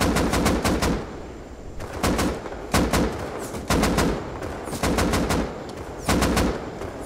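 Automatic gunfire in the survival game Rust comes in repeated sharp bursts of rapid shots, loud and close, separated by brief gaps with a steady rumble underneath.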